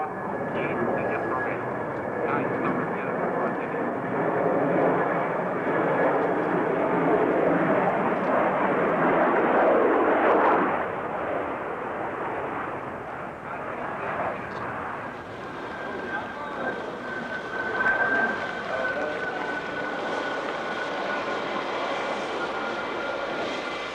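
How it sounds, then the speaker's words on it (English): Prototype Concorde 001 supersonic airliner landing, a broad roaring engine rumble that swells and then eases, with a narrator speaking over it. "Le Concorde est en cours d'atterrissage."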